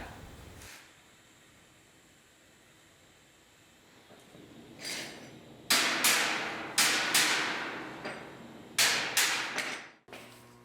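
Metal on an animal sculpture is heated with a torch and hammered, giving about seven sharp, loud, ringing blows in an uneven rhythm after a quiet stretch of low background hiss.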